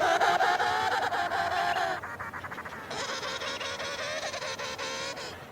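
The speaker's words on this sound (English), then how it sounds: "they call out to locate a penguin they've mated with before" Emperor penguins call out to find mates, loud layered honking and trumpeting calls from several birds at once, close and continuous, with a brief shift in the chorus partway through.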